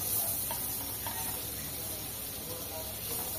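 Chopped onion frying in a little butter in a pan, a steady soft sizzle and hiss with faint stirring scrapes, while someone talks over it.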